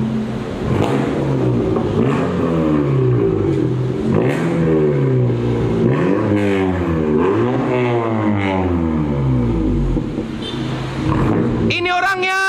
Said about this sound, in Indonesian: Dan gue akan kasih tunjuk suara knalpot ya.